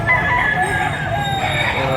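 A bullstag rooster crows loudly and close by at a poultry market, one drawn-out call filling the short clip.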